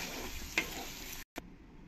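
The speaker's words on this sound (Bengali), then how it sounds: "এবার আমি এখানে যে আলুগুলো ফ্রাই করে রেখেছি আলুগুলো দিয়ে দেবো, দিয়ে একসঙ্গে ভালো করে আমি নেড়ে দেবো।" Fried potatoes stirred into cooked masala in a pan, with soft sizzling and scraping strokes, one sharper scrape near the middle, and a brief cut to near silence before quieter sizzling resumes.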